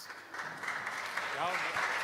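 Audience applause at the NG-DE Angular conference in Berlin fills a steady wash of claps, with a speaking voice rising over it near the end.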